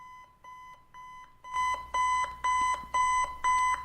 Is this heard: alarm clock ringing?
yes